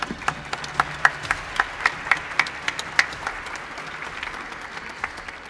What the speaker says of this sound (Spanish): Así que un aplauso para Vicky